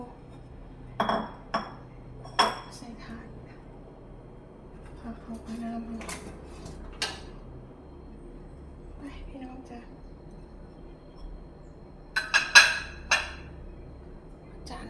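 Pork lung soup is scooped into a bowl with a ladle, producing scattered clinks and knocks of metal against crockery, a few louder taps near the end, while someone talks intermittently.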